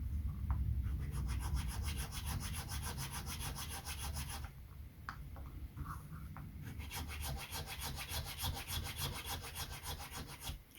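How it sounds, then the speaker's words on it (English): Filing the end of a small wooden part for a Bluenose model ship, a close, soft rasping in quick repeated strokes, steady throughout with a brief pause partway and no talking. "The other thing I do with these is just trim the little bit off the end here, just a little bit of filing"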